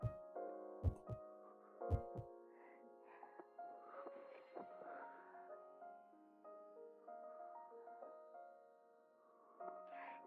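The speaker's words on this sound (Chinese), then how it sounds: "你心跳好快" A fast heartbeat sound effect opens with a few quick, deep thumps, then a soft, sustained musical drone carries on quietly.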